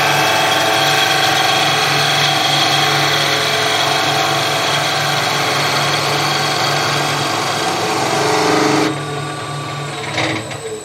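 A skew chisel makes a planing cut along a spinning wood spindle on a lathe, a steady loud whirring hiss with motor hum that drops abruptly near the end as the cut stops.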